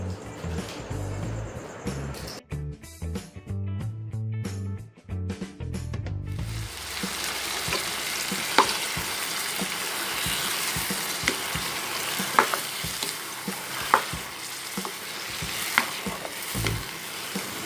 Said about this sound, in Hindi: टमाटो पेस्ट ऐड करने के बाद एक बार फिर से हम फुल फ्लेम पे इसको फ्राई करेंगे